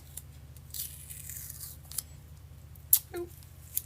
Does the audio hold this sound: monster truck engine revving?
no